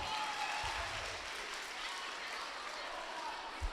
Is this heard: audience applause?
yes